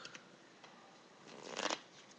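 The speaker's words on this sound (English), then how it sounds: "a rifle shuffle" Cards riffle together in a quick, soft fluttering burst that builds and ends sharply, preceded by faint light ticks, close and quiet.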